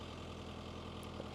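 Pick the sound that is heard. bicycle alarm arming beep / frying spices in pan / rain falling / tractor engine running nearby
tractor engine running nearby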